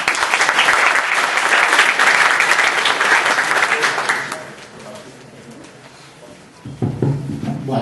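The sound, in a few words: applause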